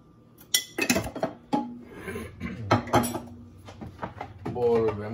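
Crepe batter is mixed in a bowl: clinks and knocks of the utensil against the bowl come in uneven bursts, close and fairly loud, with voices talking over them.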